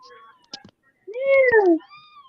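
A small black cat gives a short sound and then one clear, drawn-out meow that rises and falls, close by in a quiet room during a live podcast.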